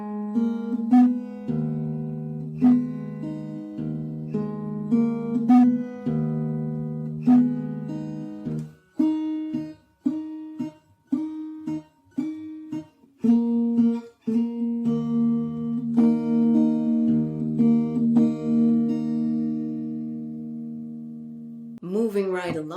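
Acoustic-toned blues guitar example with slides and open-string pinches, picked single notes and bass pinches in a loping rhythm, ending on a short run over open strings, clear and moderately quiet.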